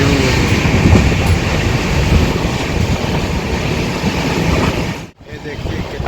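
The Prasanti Express rolls along the rails on a journey from Bangalore to Bhubaneswar, a loud continuous rumble with wind buffeting, briefly dipping near the end before resuming.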